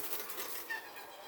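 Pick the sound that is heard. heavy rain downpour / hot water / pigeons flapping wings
pigeons flapping wings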